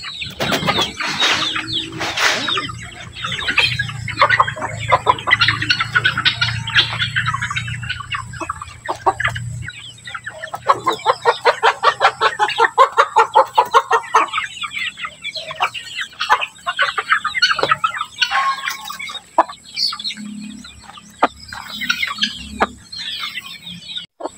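Upgraded native chickens, crosses of broiler with a Basila rooster, cluck and flap in a backyard. Close, repeated clucking comes in quick rhythmic bursts alongside wing flaps, with no talking.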